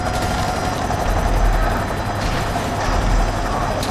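Rotor and engine drone of a heavily damaged helicopter in the video game GTA 5, a steady rattling, mechanical whir with ratchet-like clicks, loud and continuous throughout.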